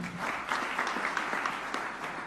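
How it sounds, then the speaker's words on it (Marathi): Audience applause at a formal ceremony at Raj Bhavan in Mumbai, a sustained burst of many hands clapping at moderate distance, steady and dense for the whole stretch. "एकदा जोरदार टाळ्या झाल्या पाहिजेत"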